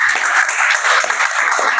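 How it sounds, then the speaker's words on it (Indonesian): A class applauds together after a group answers a discussion question correctly, steady clapping from many hands filling the room with no talk over it. "Tepuk tangan semuanya."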